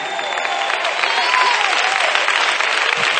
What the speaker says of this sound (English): Let's clap our hands and let these rafters roar